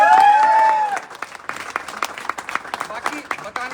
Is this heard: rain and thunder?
no